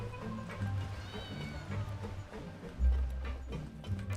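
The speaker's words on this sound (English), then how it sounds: "Kitty." Cartoonish cat meows from the Genshin Impact video game, several short mewing calls rising over a steady game soundtrack with low thumps, moderately loud and close, no talking.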